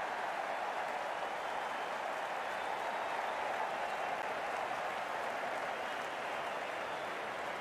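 Steady, dense applause from a cricket crowd after a big hit in NACO Spring 2020 match 47, Brooklyn Beats versus DC Eagles, sustained at an even level throughout with no breaks.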